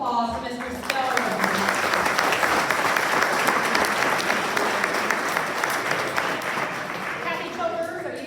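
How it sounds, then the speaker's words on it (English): Sustained applause from a large crowd filling the room, loud and steady before tapering slightly, with a voice briefly heard at the edges. "Ladies and gentlemen, another round of applause for Mr. Spiller."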